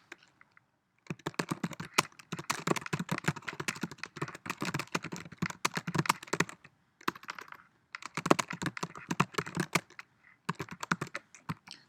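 Fingers type on a computer keyboard in quick, close bursts of crisp key clicks, broken by short pauses, with no voices.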